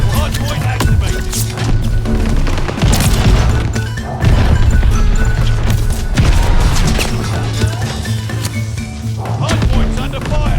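Gunfire and explosions from the Call of Duty video game during a Hardpoint match, loud and dense with repeated crashes and thuds alongside continuous game audio.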